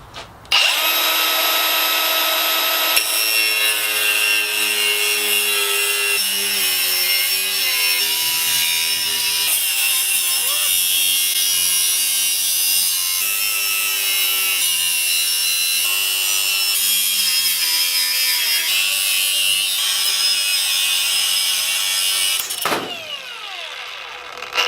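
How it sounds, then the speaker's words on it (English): Grinding wheel cutting through a steel bash bar on an SR240 ATV, a loud continuous high-pitched shriek with a shifting, wavering tone that runs steadily for over twenty seconds before cutting off abruptly near the end. "I found my grinding wheels. So I am gonna go ahead and shorten the bash bar now"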